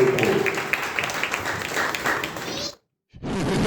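Enthusiastic applause for a group performance at a Brahma Kumaris cultural program during Ganesh Utsav, steady dense clapping that cuts off abruptly, then resumes after a brief silence.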